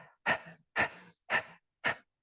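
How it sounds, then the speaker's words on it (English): Rapid panting breath in a Kundalini yoga class, tongue out like a dog, with the belly pumped on each exhale: four sharp, breathy puffs in an even rhythm, close and clear with silence between them. "stick the tongue out and like a dog on a hot summer day to do this panting"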